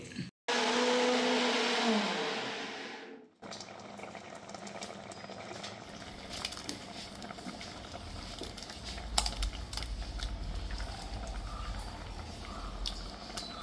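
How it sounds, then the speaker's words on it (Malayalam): Mixer grinder whirring as it grinds garlic, cumin and turmeric into a paste, a loud steady motor roar for about three seconds that cuts off abruptly, then quieter kitchen clatter and background noise. "ഇപ്പോൾ നമ്മൾ കാണിച്ച കൂട്ട് മിക്സിയിൽ നന്നായിട്ട് അരച്ചെടുക്കുക"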